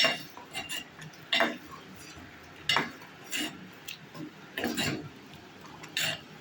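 A spoon clinks and scrapes against a cooking pot in short, irregular strokes as fish curry is stirred, fairly quiet with brief pauses between.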